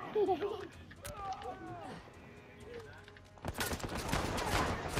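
Enemy gunfire in Uncharted 4, a sudden loud burst of rapid overlapping shots erupting after a stretch of quieter game sounds and talk, continuing to the end.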